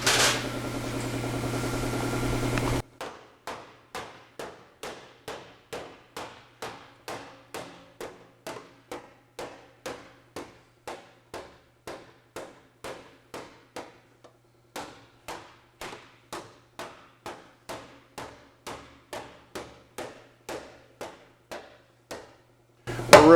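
A long, steady series of sharp metallic slaps from a panel slapper on the sheet-metal body of an Austin-Healey 3000, evenly paced and fairly close, each strike ringing briefly before the next.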